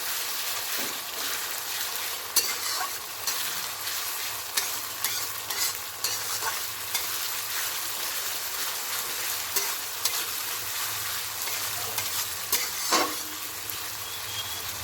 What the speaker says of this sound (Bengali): ভালো করে রসুনের পেস্টটা মিক্সড করে দেবো পেঁয়াজের সঙ্গে